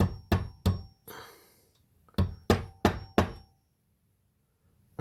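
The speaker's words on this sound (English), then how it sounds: "Gotta find a side where I can just start it with the hammer." A hammer taps a driveshaft dogbone pin into place with sharp metallic knocks, three quick strikes, a brief scrape, then four more evenly spaced blows, close and loud in a quiet space.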